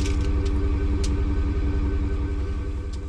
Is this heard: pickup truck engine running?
yes